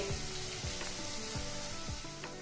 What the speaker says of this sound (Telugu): ఇప్పుడు ఈ ముక్కలు దోరగా వేగినవి చూడండి ఈ విధంగా వేగాలి